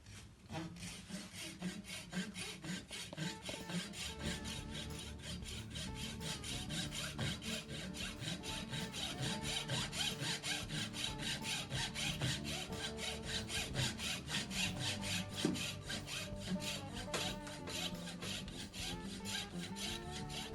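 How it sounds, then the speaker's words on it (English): A very fine hand saw cuts through wood clamped in a vise, making a steady, continuous back-and-forth rasping that stays close and fairly loud for the whole stretch, with no voices. "going to use a very fine saw, get it into the vise, and just we're going to follow our line"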